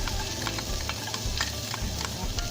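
Onions dropped into a preheated pan give a steady, close sizzle with faint crackles and occasional stirring scrapes, continuous throughout.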